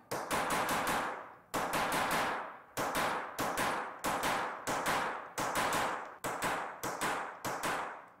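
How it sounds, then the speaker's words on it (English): Repeated sharp metallic blows of a hammer on a brass punch pressed onto metal foil ring out in quick clusters of three or four strikes, each ringing and fading before the next group. "I take a brass punch and press it firmly onto the foil and start to hammer it"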